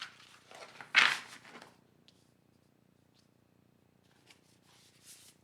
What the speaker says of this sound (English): I'm going to shuffle just down here so that we don't disturb your cards too much.